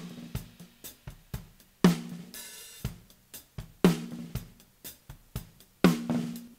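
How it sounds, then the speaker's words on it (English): A top snare drum captured with a Beyer 201 and an AKG 414, lightly EQ'd and run through a 456 tape compression unit, plays solo: crisp hits in a steady groove, with louder accented cracks about every two seconds. "So I'll bring in the snare just on its own, which this is the top snare."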